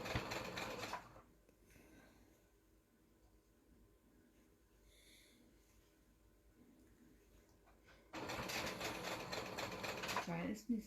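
A sewing machine runs in a fast, close burst of rapid stitching, stops for several seconds of quiet, then starts again with another loud run.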